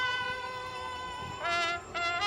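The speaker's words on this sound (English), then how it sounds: "You can hear the trumpeter a little bit in the background" A trumpet plays with a small military marching band from the 1st Infantry Division at the Junction City Christmas parade, its bright sustained tones sounding from some distance over outdoor crowd noise and swelling louder in short bursts.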